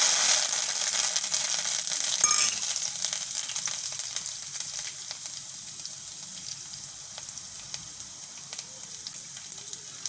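Green garlic, asafoetida and curry leaves sizzling in hot oil for a kadhi tempering, a steady bright crackling hiss that eases slightly over time, close up with no talking.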